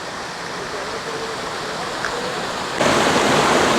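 A stream rushes steadily over rocks nearby on the trail to Catawba Falls, Old Fort, North Carolina, a constant broad hiss that swells louder toward the end.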